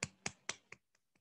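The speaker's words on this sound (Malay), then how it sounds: "Okey, tepuk tangan, tepuk tangan." Students in a classroom coaching session clap their hands: six sharp, short claps in quick succession, the first three loud and close, the last three fading and softer, with no talking.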